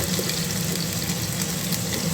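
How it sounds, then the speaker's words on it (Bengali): Potato pieces with turmeric frying in oil in a pan, giving a steady, even sizzling hiss throughout with no voices. "নুন দিয়ে ভেজে নেবো আলুটা।"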